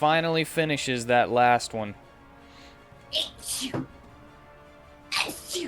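A sneeze, or a quick pair of sneezes, erupts at a tabletop fantasy role-playing game session, sharp and close, after a stretch of speech, followed by another short burst near the end.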